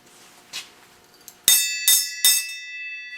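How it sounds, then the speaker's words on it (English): A bell mounted between a house and a garage rings three times in close succession, each clear metallic strike ringing out briefly. Softer clinks come just before, with no talk over the rings. "You want to ring the bell?"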